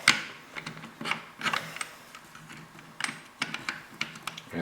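Metal bolt of a Mossberg TR500 rifle sliding into the receiver's grooves during reassembly, heard as a run of light, close clicks and scrapes spaced unevenly, with no talking.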